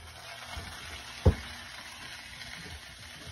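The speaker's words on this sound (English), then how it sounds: "You're going to toss them in cooked butter, in frothed butter, and here we go." Asparagus sizzling in foaming browned butter in a pan: a soft, steady frying hiss with one brief knock partway through, quiet and close, with no talk.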